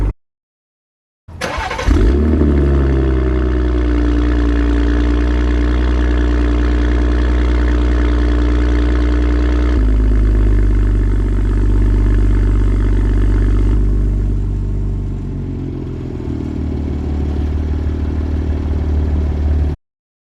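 A BMW M340i fitted with an aftermarket Alibaba exhaust fires up abruptly and settles into a loud, rumbling idle. The engine note shifts partway through and stays up close with no talk over it.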